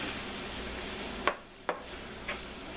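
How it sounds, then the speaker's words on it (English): Onion, garlic and sausage sautéing together in a pan for a Zuppa Toscana soup, a steady close sizzle broken by two sharp spoon scrapes and a softer third stir. "So we'll just saute this together for a few more minutes."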